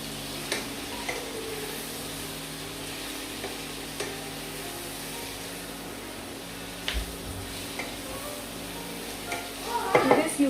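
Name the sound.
stirring vegetables for Kerala aviyal in a pan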